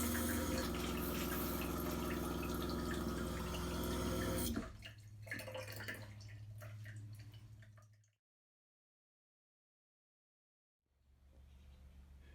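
Water from the shower of a 1969 Fireball camper runs into the shower pan by the drain, first a loud dense spray, then a lighter patter, then silence before a softer flow resumes.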